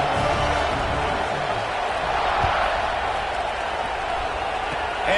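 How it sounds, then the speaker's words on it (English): A football stadium crowd at an Alabama vs Florida game keeps up a steady, loud roar after a score, a dense wash of voices that holds evenly throughout with no single voice standing out. "this crowd is buzzing after that last score"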